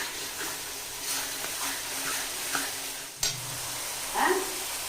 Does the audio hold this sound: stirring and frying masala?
yes